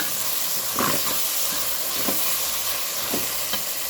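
Ginger garlic paste frying with softened tomato in a pan, a constant sizzle and hiss with occasional soft stirring scrapes and pops, close and even throughout.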